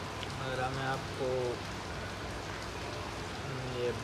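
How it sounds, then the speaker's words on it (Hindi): Heavy rain falls in Karachi as a steady hiss of drops on surfaces, moderately quiet and continuous, with someone speaking over it at times. "ये बारिश का मनाजर दिखा पाया हूँ"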